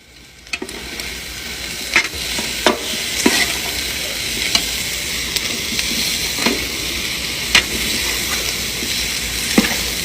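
Steady loud sizzle of vegetables frying in tomato sauce oil for a Bedouin maqluba, with repeated clinks and scrapes of a spoon stirring the pot every second or two.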